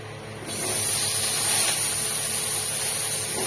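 Pointed gourd and potatoes frying in oil in a pan over low gas, a steady loud sizzle that starts abruptly and holds without a break.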